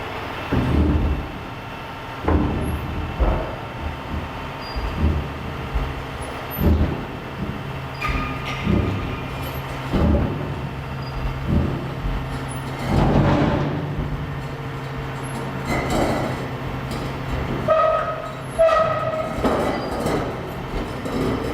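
A swap loader truck's hydraulic hoist loads an attachment onto its I-beam and rollers, a steady rumbling mechanical drone with repeated clanks and metallic thumps, close and fairly loud throughout with no talking.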